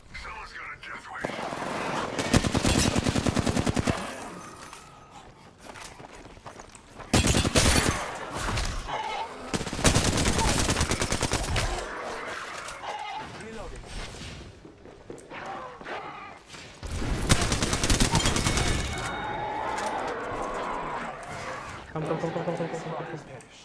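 Gunfire in the Apex Legends video game rattles in several loud automatic bursts spread through the clip, with quieter game sounds between them and voices talking at times.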